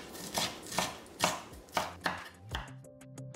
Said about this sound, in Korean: 파프리카 3분의 1개도 같은 크기로 썰어 담고